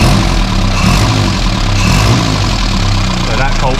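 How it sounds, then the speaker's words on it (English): Loud, steady engine rumble close by from a classic Mini Clubman estate, with a rough, puffing exhaust note from a leaking exhaust clamp and a faint rattle, continuous throughout. "the next job is sort out this blowing exhaust"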